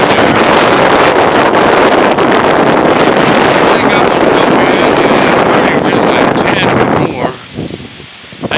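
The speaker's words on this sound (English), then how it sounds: "But that wind is just crazy as can be." Strong high wind in Arkansas roars continuously and loudly against the microphone, buffeting and rushing for several seconds before briefly easing near the end.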